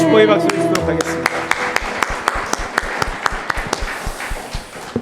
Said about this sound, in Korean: 서로에게 축복의 박수를 주도록 하겠습니다.